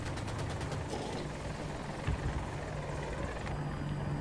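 A helicopter in the Battlefield 2042 video game drones with steady rotor thump close by, with brief bursts of gunfire and weapon noise over it, and no talk.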